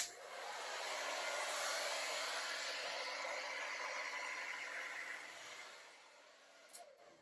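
A hair dryer blows steadily across wet acrylic pour paint for a Dutch pour painting, a continuous airy rush held for about five seconds before easing off and fading near the end.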